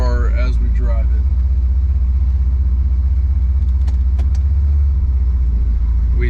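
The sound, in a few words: 1977 Pontiac Trans Am driving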